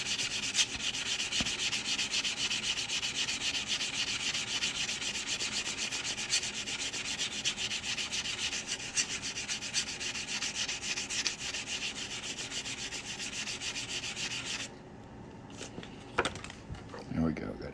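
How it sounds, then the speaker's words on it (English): Steady, continuous abrasive rasp of sandpaper working the cut edge of a metal coin ring, loud and close for most of the stretch before stopping abruptly, followed by a few quiet knocks. "And I'm gonna sand this cut edge real quick."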